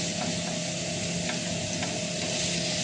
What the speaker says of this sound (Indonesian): Ini aku mau tumis dulu